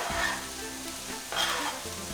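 Onion cooks in a pan for plant-based quesadillas, giving a soft continuous sizzle with light stirring scrapes, fairly quiet and close, with no voices.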